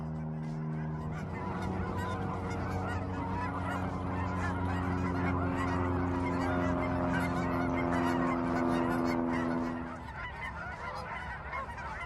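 A flock of geese honks together, loud and continuous, at a winter park pond in Longmont, Colorado, where most of the water is frozen over. The noisy chorus fades toward the end.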